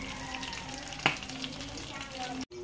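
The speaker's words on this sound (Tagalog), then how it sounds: "pagkatapos magprito, igigisa po natin yan." Oil sizzling as a red snapper head is sautéed for miso sinigang, a soft, continuous frying hiss with one sharp spatter about a second in and a brief dropout near the end.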